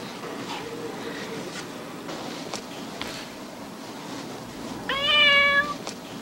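A cat in a Whiskas cat food commercial gives one clear, fairly loud meow near the end, after several seconds of quiet background hiss.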